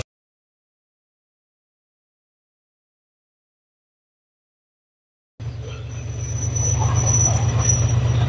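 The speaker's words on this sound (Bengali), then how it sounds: "এই যে দেখেন একটা ট্রেন চলে এসেছে অলরেডি" A train rolls past a potato field beside the railway line, starting abruptly after silence and growing louder as the wagons rumble by close at hand, with steady rhythmic wheel clatter and a faint squeal.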